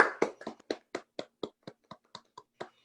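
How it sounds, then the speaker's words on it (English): A small round of applause for a presentation, sounding as roughly a dozen separate, evenly spaced hand claps, faint and close, with no voices over them. "we all owe him a great round of applause"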